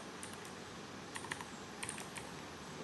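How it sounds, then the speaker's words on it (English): Typing code on a computer keyboard: soft, close key clicks in a few small clusters over a steady low background hiss, with no voices. "So let's just directly type"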